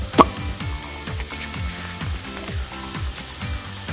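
Bacon and onions sizzle in a frying pan inside a campervan kitchen, a steady broadband crackle running throughout with low rhythmic scraping and clatter from stirring.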